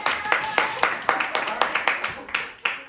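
Theatre audience at an improv show clapping hands to vote for a scene title, a run of about ten sharp, evenly spaced claps, fairly close, with faint voices underneath.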